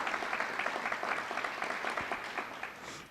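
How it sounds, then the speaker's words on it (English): A room full of people claps steadily, a dense patter of applause that holds throughout without fading. "how about a round of applause from members of the search committee?"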